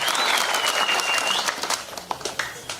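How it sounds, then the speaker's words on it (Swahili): Crowd applause at a rally in Goma, with dense, loud clapping that fills the clip and thins into a few scattered claps near the end, alongside a faint whistle-like tone. "Tukamkaribisha kwa makofi na shangwe sana kabisa."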